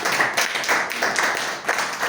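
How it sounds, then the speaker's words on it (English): A room of people at a Toastmasters meeting applauds steadily, many hands clapping together in a dense, continuous patter. "please welcome her with a great round of applause"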